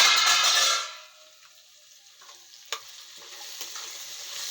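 Eggplant, potato and bean vegetable dish frying in a pan, a loud sizzle at first that quickly fades to a soft, low crackle with occasional faint clinks.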